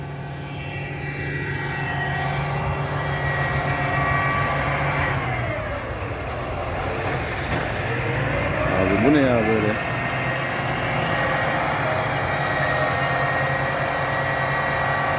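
A tractor works a large field in Bulgaria during preparation for sunflower planting, pulling slowly with a levelling attachment up front. Its engine drones steadily with a rising and falling whine as it passes, while someone talks over it.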